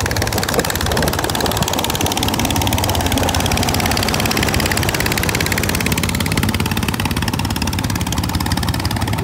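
A motorboat engine drones steadily and loudly while cruising down a river near Inle Lake in Myanmar, a constant close-up rumble with no break.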